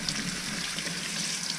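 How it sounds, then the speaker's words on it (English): Tap water runs steadily over a fresh garden tomato at a kitchen sink, a continuous close splashing rush with no talking, steady in level throughout. "So always clean your tomato with water."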